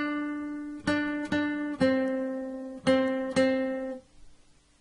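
Guitar plays part three of Baa Baa Black Sheep on the second string, five plucked notes in two short groups, moderately loud and close, ringing out before a quiet tail.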